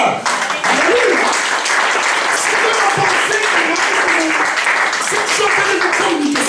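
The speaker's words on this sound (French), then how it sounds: "Est-ce qu'on va acclamer le Seigneur?" A church congregation breaks into sustained applause for the Lord, dense clapping filling the room steadily, with voices and cheers mixed in throughout.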